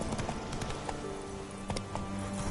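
A horse galloping in The Witcher 3 video game, hooves clip-clopping in a fast, steady rhythm that fills the whole stretch, close and prominent over a busy game soundscape.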